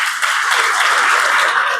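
An audience at a motivational talk bursts into brief, dense clapping, a loud, even wash of hands lasting under two seconds with no voices over it.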